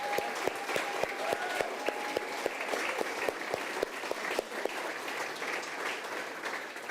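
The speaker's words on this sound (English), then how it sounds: "let's give her another hand" Sustained audience applause at a grand opening event at a marketing headquarters, steady dense clapping from a crowd throughout, with sharper individual claps standing out early on and no talking.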